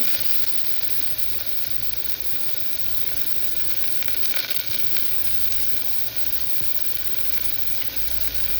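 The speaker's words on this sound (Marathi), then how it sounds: "आणि जो बारीक चिरलेला कांदा आहे तो आणि 1 हिरवी मिरची हे मी फोडणीला टाकते" Finely chopped onion and a green chili sizzle in hot tempering oil for a black mutton curry, a dense, continuous frying hiss that stays steady and close throughout with no voices.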